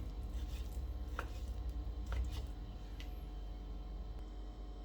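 Faint, quick chopping taps of a knife cutting beef into small pieces on a board for northern Thai larb, a few sharp knocks over a steady low background hum.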